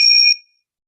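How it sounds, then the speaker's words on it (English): A small Tibetan bell struck once, giving a bright, pure ringing tone with a clear overtone that sustains briefly and then fades quickly into silence. "I'm going to end with my little Tibetan bell"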